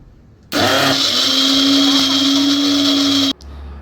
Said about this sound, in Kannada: ಈ ಒಂದು ಮಿಕ್ಸಿ ಕ್ಯೂಟ್ ಆಗಿದೆ ಆ್ಯಂಡ್ ತುಂಬ ಚೆನ್ನಾಗಿ ವರ್ಕ್ ಆಗುತ್ತೆ